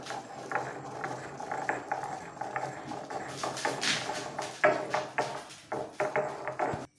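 Fennel seeds and garlic pounded together in a mortar, giving a run of sharp, irregular knocking thuds that grow louder and more forceful toward the end, close and without talk.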